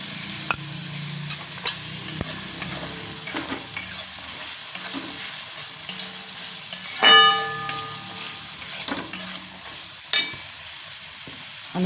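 Turmeric frying and being stirred in a pan for green chickpea rice: a steady soft sizzle with scraping stirs throughout and a brief clink of utensil on metal midway, no voices.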